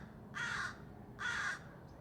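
Two loud, harsh crow caws spaced about a second apart, close by, over a quiet outdoor background with no talking.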